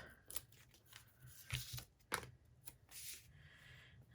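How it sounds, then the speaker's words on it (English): Backing strips being peeled off small paper card pieces for a handmade dragonfly garden card, a few close, quiet tearing rips and crinkles in short bursts with no voices. "peel those off"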